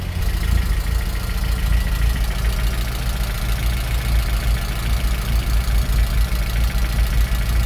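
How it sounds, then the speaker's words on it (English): A car engine idles lumpily on its own, a steady, loud, low rumble with an uneven pulse that runs throughout, with no voices. "That is the car idling on its own there"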